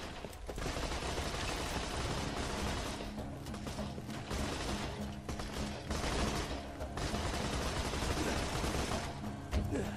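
Sustained Borderlands 2 gunfire in a co-op game session, with dense overlapping bursts and rapid shots filling the whole stretch, loud and continuous with brief gaps.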